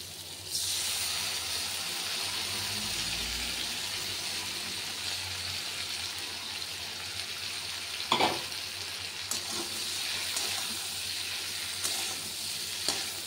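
Eggplant sizzles and hisses steadily in a hot pan as it is stirred, with a few louder scraping knocks of the utensil; close and fairly quiet, no talking.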